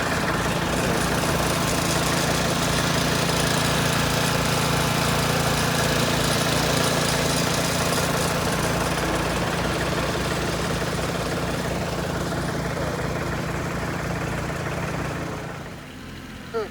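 Tractor engine idling on a condo construction site during grading work, a steady, loud mechanical drone that holds unchanged for about fifteen seconds before cutting off near the end.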